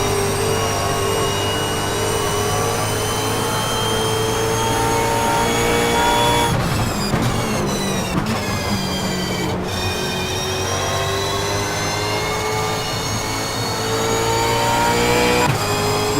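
A race car engine in the sim game Stock Car Extreme, holding a loud steady high whine, then a burst of quick gear shifts and revving before settling back into a sustained droning tone, continuous and close, without speech.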